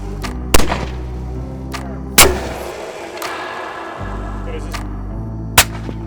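Suppressed rifle shots during a suppressor sound test: three sharp, close reports at spaced intervals over a steady low outdoor hum, with each crack followed by a brief decay.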